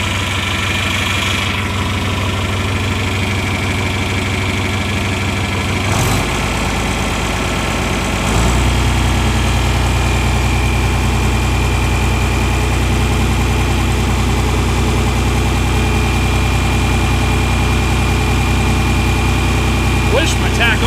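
A John Deere 4020 tractor in a machine shed cranks over, catches and settles into a steady, close, throbbing diesel idle that carries on to the end.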